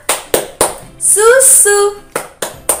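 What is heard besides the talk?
children's clapping game (tepuk 4 sehat 5 sempurna)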